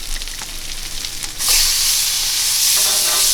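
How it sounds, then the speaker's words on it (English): Blackened crappie fillets sear in hot oil, a loud, close, continuous sizzle that surges sharply a moment in and then holds as a dense crackling hiss. "I can tell that they're cooking fast, they're searing nice"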